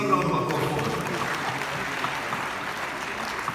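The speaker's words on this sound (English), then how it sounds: "A resounding round of applause." Applause for parliamentary select committee members at the launch of the Ghana Smart Schools programme, a short, continuous wash of crowd clapping mixed with some voices.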